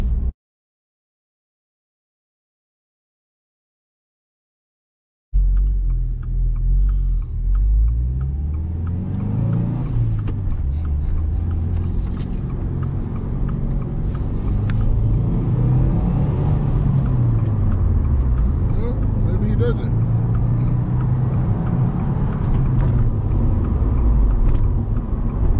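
A Subaru WRX with a manual gearbox drives on the road. After about five seconds of silence, a steady engine rumble starts, and the pitch rises and falls as the car accelerates and shifts.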